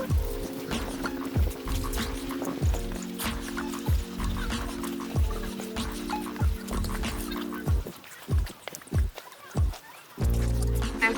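Meltwater from melting snow dripping in a Kyiv courtyard in early spring, a rapid irregular patter of close drops falling into water, with brief lulls and a faint voice in the background.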